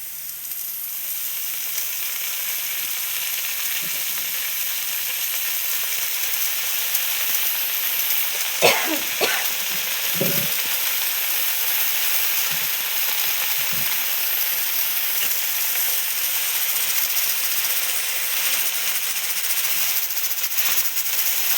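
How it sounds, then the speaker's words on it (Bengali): Leafy greens fry with onion and garlic in a pan, giving a steady, fairly loud sizzling hiss throughout, with a few brief scrapes and knocks of stirring near the middle and no voices. "আমার এখন পেঁয়াজ আর রসুন ভাজা হয়ে গেছে। আমি এখন"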